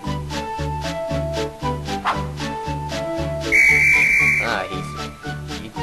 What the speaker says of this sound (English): Did you just blow a whistle?